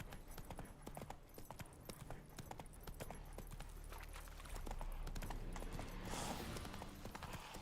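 Roach the horse trotting in The Witcher 3, with rapid continuous hoof clip-clops close by over a constant background rumble that swells slightly near the end.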